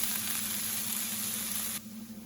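Onions frying in a pan, a steady close hiss of sizzling oil that carries on without a break and then drops sharply to a softer sizzle near the end.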